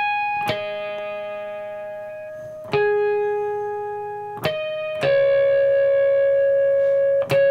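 Slow electric guitar riff: four or five ringing, effected notes and chords struck one at a time, each sustaining and fading before the next.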